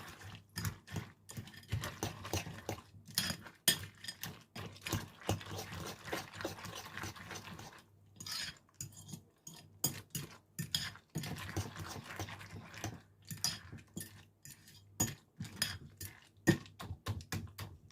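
Oats, banana and milk are mixed in a bowl, giving repeated close clinks and scrapes of a spoon against the dish in an uneven rhythm, with brief pauses between strokes.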